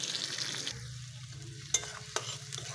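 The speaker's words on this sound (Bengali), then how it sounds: "পেঁয়াজটা লাল হয়ে এসেছে, এর সঙ্গে সব ভাজা হয়ে গেছে।" Onions and spices frying in a pan for a cauliflower and meat curry, a steady sizzle with a couple of sharp utensil clinks against the pan, close and alone.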